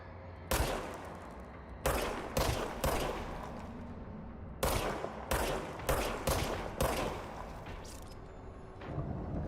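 Service weapon shots in Control, sharp loud single and paired bangs spaced irregularly across the stretch, each with a short echoing tail over a low ambient background.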